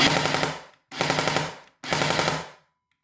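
Specna Arms SA-E06 EDGE 2.0 airsoft rifle with a HAL2 mosfet firing on full burst: three loud, close, rapid automatic strings of BB shots, each lasting just under a second, separated by short silent pauses.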